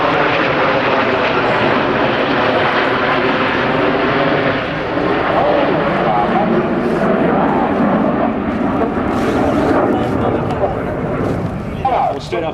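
Red Arrows jets roll overhead at the Biggin Hill air show, a loud sustained roar that fills the whole stretch, with a commentator talking over it.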